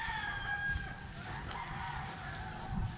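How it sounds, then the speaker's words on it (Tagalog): A fighting rooster crows faintly in the distance over low background rumble in a Manila village. "kung gusto mo makarinig ng tilaok ng manok sa umaga, pumunta ka lang dito"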